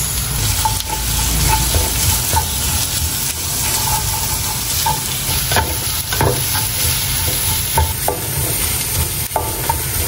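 Sisig with ginger and garlic being stirred in a frying pan, a loud steady sizzle with repeated scraping and clattering strokes of the spoon throughout, close and without talk.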